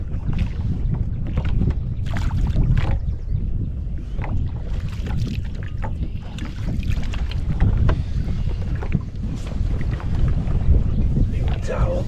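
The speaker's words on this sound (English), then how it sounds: "Now we're getting the wind coming this way." Wind gusts buffet the microphone on a fishing boat out on a lake, a heavy low rumble with choppy bursts and faint water and hull sounds underneath, and a voice speaks briefly in places.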